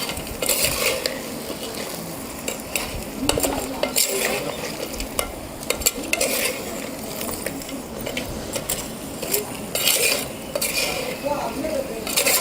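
Crab curry in a pot over a wood-fired stove is stirred with clanking, scraping strokes of a utensil against metal, over a bubbling sizzle, close and busy throughout with no speech.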